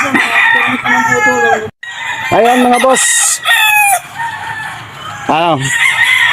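Several gamecocks crow loudly and close by under a mango tree, overlapping one another, with someone briefly speaking between the calls.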